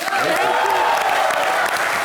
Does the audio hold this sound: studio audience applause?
yes